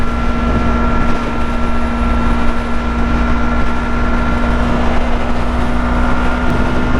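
A Yamaha R3 motorcycle engine drones steadily at speed while riding past a Honda, a loud, continuous roar with a constant pitch and wind rushing around it, no voices.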